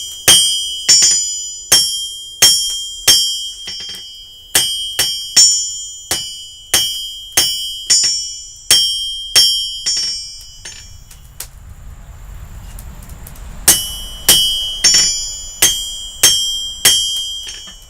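Hammer blows ring out on an anvil as a knife tang is forged, a steady run of sharp metallic strikes with bright ringing overtones and a brief pause midway before the rhythmic pounding resumes.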